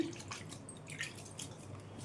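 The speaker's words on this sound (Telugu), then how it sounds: "ఇప్పుడైతే కొద్దిగా వాటర్ వేసుకొని చపాతీ పిండిలా కలిపేసుకోవాలి" Small amounts of water are sprinkled onto flour while chapati-style dough for aloo paratha is kneaded by hand, giving soft, close drips and wet squishing sounds at a quiet level.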